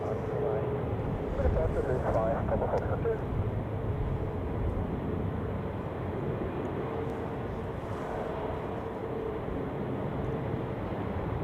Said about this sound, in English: Scandinavian Airlines taxiing to runway 32 there, off to, what is that, Oslo.